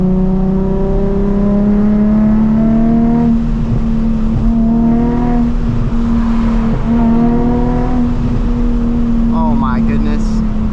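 A Nissan 350Z HR engine blips and revs on a downshift from fourth to third, heard loud and close from inside the car as the pitch rises and falls with each rev, with a voice talking over it.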